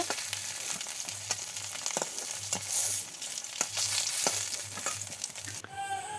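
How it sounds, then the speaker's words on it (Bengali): Fish frying in hot oil as pieces are lifted out: a steady close crackling sizzle broken by occasional sharp clicks and scrapes, over a faint low hum. "মাছ ভাজি করা হয়ে গিয়েছে, এখন তুলে নিচ্ছে।"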